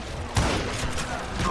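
A single sharp gunshot from a Western-style firearm in the video game Call of Juarez: Gunslinger rings out once, standing briefly above a steady bed of in-game ambience.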